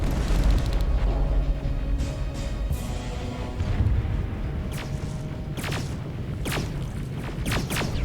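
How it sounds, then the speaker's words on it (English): Rocket explosions in the video game Terminator: Resistance make a dense, continuous low rumble of booms with several sharp cracking impacts in the later half, loud and sustained throughout. "Rockets! They're heading this way!"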